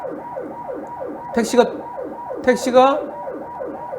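An ambulance siren on a road in South Korea wails in rapid repeating sweeps, moderately loud, while a voice briefly speaks Korean over it twice.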